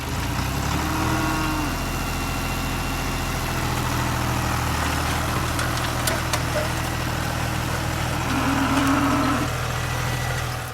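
A John Deere tractor engine idles and rumbles close by for the whole stretch, a low continuous drone with a faint mechanical whine rising briefly near the end.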